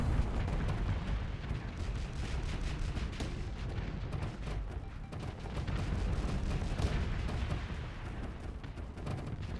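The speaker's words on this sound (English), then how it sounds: "Let's get my missiles launched into it" Missile launches and weapons fire in the Starsector space combat game, a dense continuous barrage of rumbling blasts and rapid shots layered together at steady loudness.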